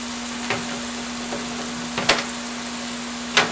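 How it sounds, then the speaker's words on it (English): Vegetables soften over moderate heat in a skillet with leftover sausage remnants, giving a quiet, steady sizzle with a few sharp clicks of utensil against pan. "skillet is not like screaming out of control hot, because we don't want to scorch these vegetables"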